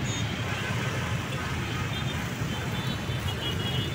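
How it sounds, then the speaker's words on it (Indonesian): Congested traffic crawls through the Gedangan frontage road intersection, a dense wash of idling engines and road noise that holds steady throughout, with a person talking under it. "inilah situasi frontir gedangan yang sangat ruwet sekali, macet, padat, merayap"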